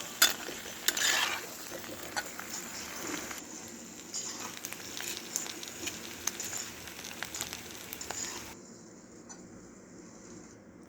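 Millet pasta being stir-fried in a pan, with steady soft sizzling and occasional scraping stirs of a spatula throughout, fairly quiet and close, no talk.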